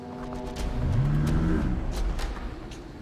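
A car engine revs up in the video game Late Shift, a loud rising whine that climbs and holds for about a second before easing, with a steady engine drone throughout and no talk.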